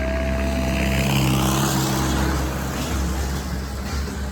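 Vehicles pulling up outside, a continuous loud engine rumble with a low steady drone that swells and eases slightly, no talk over it.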